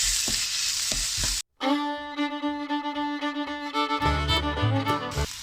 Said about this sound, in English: Now I'm going to add in the ginger garlic paste. Good stir.